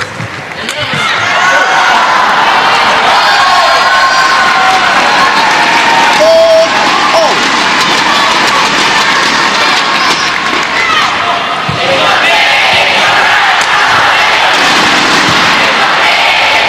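Loud, continuous home crowd cheering and applauding at a women's team badminton quarter-final at the 2017 SEA Games, a dense roar of shouts and clapping sustained throughout with brief swells.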